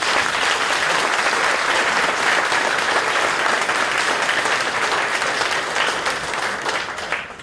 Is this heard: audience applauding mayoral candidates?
yes